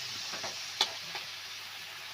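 Onions sautéing in oil in a pan for onion chitranna, a soft steady sizzle with a couple of brief stirring clinks, close and fairly quiet, no voices.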